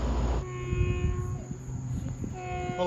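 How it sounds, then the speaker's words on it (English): A Long Island Rail Road evening rush-hour train of two Bombardier M7 electric cars, bound from Penn Station to Brentwood, approaches Farmingdale with a low rumble and steady, tonal horn blasts at the start and again at the end. "approaching is train 1060 en route from Penn Station to Brentwood with a brace of Bombardier M7s"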